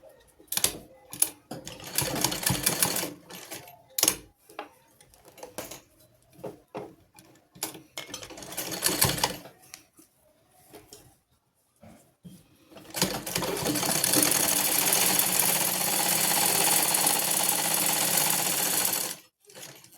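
A sewing machine runs a seam on a short kurta, first in short choppy bursts, then in one long, steady, whirring rattle lasting several seconds, close and prominent, with no speech.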